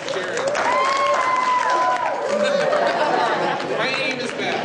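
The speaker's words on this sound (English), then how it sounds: "let's give a big round of applause to Mr. Masanda for bringing our friends from" Audience clapping at a school assembly blends with lively crowd chatter and a few whoops, a sustained burst of applause at moderate distance.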